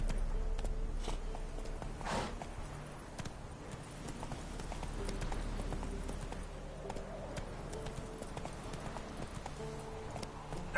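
Roach, a horse in The Witcher video game, trotting with steady clip-clopping hooves throughout, fairly quiet and even-paced, with faint ambient game sound underneath.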